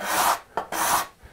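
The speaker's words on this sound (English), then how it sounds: "now with the card scraper, I can smooth it out and get to a really nice, clean, smooth surface" A steel card scraper pulls across a wooden surface in two long rasping strokes and a short third pass, each stroke a close, dry scrape with brief pauses between.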